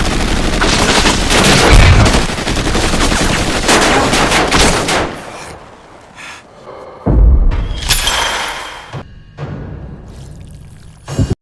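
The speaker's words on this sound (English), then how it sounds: "Gunfire erupts without warning." Loud bursts of rapid gunfire crackle and echo, with glass shattering amid the volleys and short pauses between bursts.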